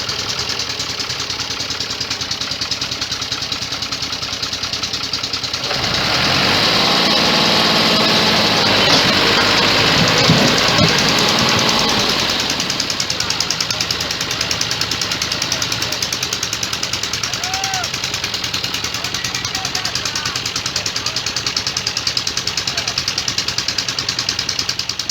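A tractor engine labours up a hill, chugging loud and steady with a knocking beat, swelling to a heavy strained roar in the middle before settling back to a steady run.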